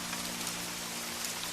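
Steady cartoon rain falls over a village, a dense even hiss of drops with no pauses, fairly close and alone with no voices.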